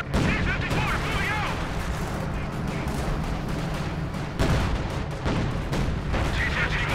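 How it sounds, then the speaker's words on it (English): German howitzers shell a village in the World War II strategy game Company of Heroes 2: a dense, unbroken barrage of booming impacts and gunfire rumbles on without pause. "German howitzers are still pounding the village"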